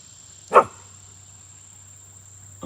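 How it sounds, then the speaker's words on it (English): A single short dog bark, sharp and fairly close, rings out once early on over a steady low hum, followed by quiet. "What you barking for, babe?"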